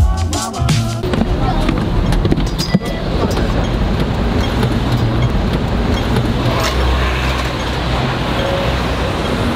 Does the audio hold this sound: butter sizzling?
no